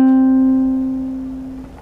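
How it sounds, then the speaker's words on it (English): On guitar, a quick grace note is picked and pulled off onto a target note. It resolves into one clear, close tone that rings on and slowly fades over about two seconds, heard alone without talking. "Play the grace notes with slurs."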